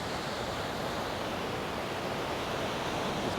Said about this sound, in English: Sorry, I get so distracted by waves, man.